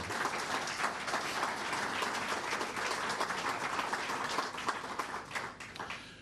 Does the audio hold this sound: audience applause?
yes